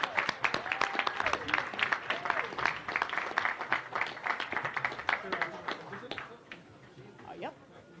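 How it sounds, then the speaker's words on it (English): An audience at an agricultural fair opening day claps in steady applause while people talk and call out over it, and the clapping tapers off near the end. "Clap them up. Clap them up."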